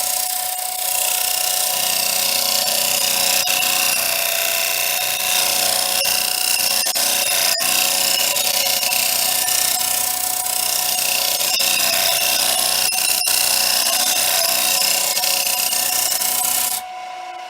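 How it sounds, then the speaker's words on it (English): A wood lathe spins steadily as a scraper held at an angle on the tool rest shaves very fine cuts from the turning wood, a continuous loud rasping whir with no break and no talking. "I'm actually angling the scraper itself, so it's not just sitting flat on the tool rest."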